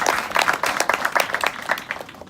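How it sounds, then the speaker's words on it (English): A small crowd applauding at a house party in Vista, California, with uneven, close claps from a modest group that ring out clearly and irregularly, then thin toward the end. "Can we give a big round of applause to our host, Jennifer?"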